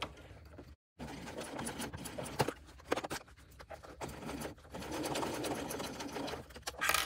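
A home sewing machine stitches slowly with a longer stitch length around a thick, layered tote bag strap, a steady mechanical whir and rhythmic needle clatter that briefly stops, then runs in uneven bursts at moderate volume.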